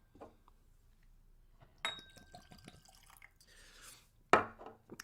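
Aged Guadeloupe rum is poured into a glass, with a soft liquid trickle, clinks of glass and bottle, and a sharp knock at the end, all close and quiet with no talking.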